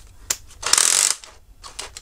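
A battery-powered power tool ratchet running in a short burst, a loud buzzing whir of about half a second with rapid clicks before and after, close and with no talk.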